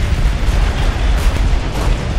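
A grenade detonation in Call of Duty: World at War fills the moment with a loud, dense, rumbling roar of battle noise sustained throughout, without voices.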